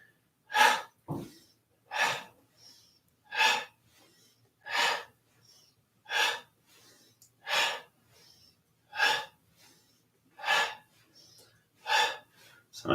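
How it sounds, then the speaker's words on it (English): Quick, sharp breaths pushed out through the mouth during a qigong flow, about a dozen forceful puffs at a steady pace, close and clear over near silence. "And let those exhales out the mouth."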